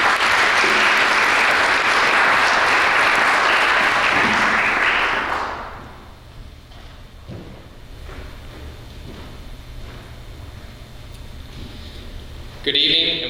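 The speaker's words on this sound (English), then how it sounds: "a warm round of applause" An audience at an evening lecture applauds warmly. The sustained, loud clapping lasts about five seconds and then fades into the quiet murmur of the room.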